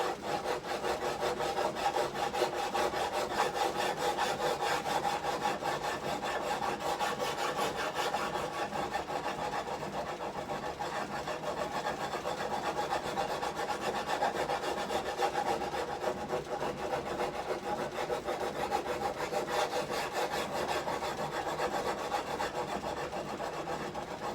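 Continuous close rasping of a file and sandpaper rubbed back and forth over wood, steady and fairly quiet with a fast repetitive stroke texture and no speech.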